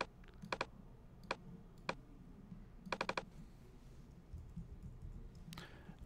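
Light clicks on a computer keyboard, typed in a few short clustered bursts and single taps with quiet gaps between them, close and soft against a faint background hiss.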